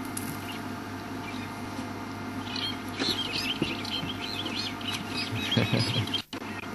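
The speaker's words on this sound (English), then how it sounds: "The drongo is making a big noise as well, as always." Busy outdoor birdsong with repeated chirps and calls over a low steady rumble, a drongo calling loudly and persistently through the scene near feeding elephants.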